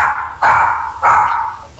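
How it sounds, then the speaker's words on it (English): A dog barks twice, loud and close, each bark a sharp onset followed by a trailing yelp, with a brief gap between them and no talking. "We got a dog barking"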